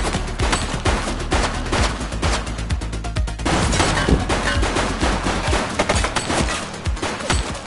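Dense, loud gunfire from The Precinct, with overlapping rapid shots and bursts in a continuous volley that thins slightly toward the end.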